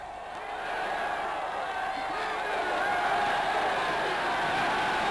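Vast crowd of about 100,000 workers gathered at Tempelhof airfield in Germany, a steady dense murmur of massed voices and rumbling movement that swells slightly and holds at moderate loudness throughout.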